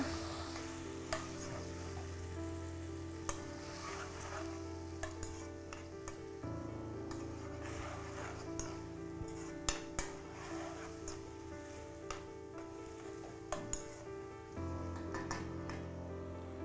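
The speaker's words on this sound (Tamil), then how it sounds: "டொமேட்டோ ஆட் பண்ணிவிட்டு நல்லா வதக்கிக்கோங்க" Tomatoes sauté and sizzle in a hot pan for green chilli rasam, a steady frying hiss with scattered spoon clicks as they are stirred, continuous and close throughout with no talk.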